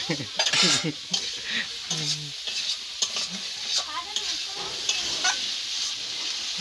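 Cumin paste, ginger paste, dried chilies, onion and tomato sizzle and fry in oil and ghee for an egg curry, with a spoon scraping and stirring the pan in irregular strokes over a constant crackling hiss.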